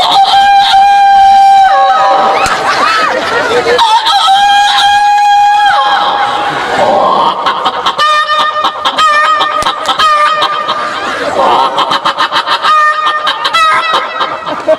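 A voice mimics a rooster crowing in long, loud, drawn-out calls, followed by excited clucking imitations with a crowd cheering and laughing underneath.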